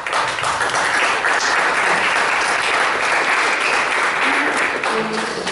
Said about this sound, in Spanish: Reciba un fuerte aplauso.